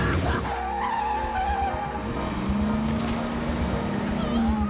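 A car circling back around to run over a man, its tires squealing and skidding with a rising engine whine, loud and sustained throughout.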